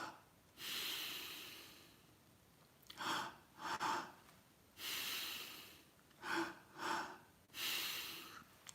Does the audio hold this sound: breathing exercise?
yes